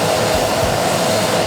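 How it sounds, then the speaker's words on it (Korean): A vacuum cleaner nozzle sucks loose coffee grounds out of the inside of a coffee grinder, a close, loud, steady whooshing roar held throughout. "일단 이 안쪽을 청소기로 좀 빨아들여 줄게요"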